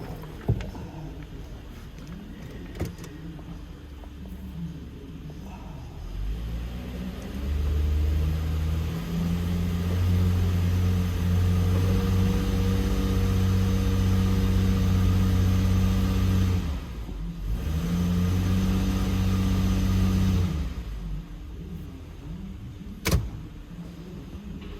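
A car engine in a repair shop stall revs up under load, being checked for a misfire; a steady low drone swells around six seconds, holds with a brief dip near seventeen seconds, then drops back to idle, with no talk.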